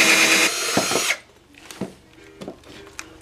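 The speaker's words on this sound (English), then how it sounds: "So I'll just drill that down a little bit and flip it back over and come through all the way from this side" A power drill bores through a wooden mount for an electric washboard, a loud steady whine for about a second that stops abruptly, followed by a few light knocks and handling sounds.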